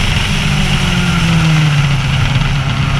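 Formula-class race cars on the final lap of an SCCA club race at Gingerman Raceway, a loud steady engine drone with a rising whine throughout, no talking.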